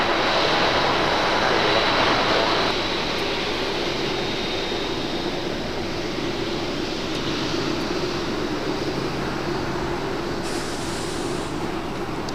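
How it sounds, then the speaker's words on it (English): Continuous loud jet engine whine and rumble from a Korean Air A380 taxiing and turning at LAX, steady and fairly near with slight shifts in tone. "Korean Air A380 Super making the right-hand turn on the Lima"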